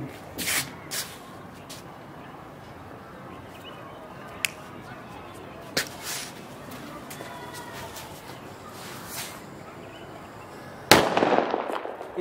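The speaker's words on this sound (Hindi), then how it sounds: "तो भाई अब बारी एक ग्रेनेड बॉम्ब की" A grenade bomb firecracker tested outdoors during Diwali, several sharp cracks and pops scattered across the clip, ending in a louder hissing burst near the close.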